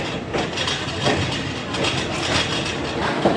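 The 11841 Gita Jayanti Express train runs along the rails in India, sounding as a steady, loud, close rumble with faint rhythmic clatter of wheels over the track joints.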